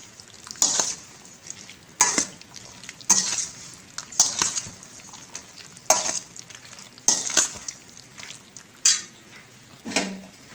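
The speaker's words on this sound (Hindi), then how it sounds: "पकौड़ियाँ, इन 3 चीज़ों को हम अच्छे से मिक्स कर लेंगे।" Fried pakoras stirred together with potatoes and chickpeas for aloo chana chaat, heard as about eight distinct scraping, clattering strokes of a spoon against a bowl at a steady pace, close and moderately loud, with no talking.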